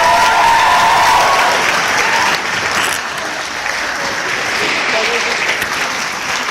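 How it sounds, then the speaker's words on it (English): An audience at a carol service gives sustained, loud applause after a traditional Irish music performance, a dense wash of clapping that fills the room and eases slightly partway through. "So again, final round of applause,"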